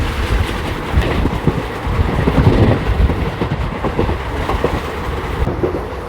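Passenger train 14526, an intercity from Shri Ganganagar to Ambala, runs fast on the rails as it nears Dhuri Junction, a loud steady rumble with rhythmic wheel clatter, heard from inside with no talk.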